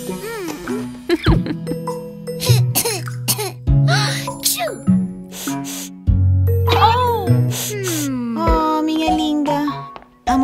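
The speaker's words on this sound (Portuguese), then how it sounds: "Tosse, tosse, espirrinhos." A child coughs several times in short bursts over a song with music and singing.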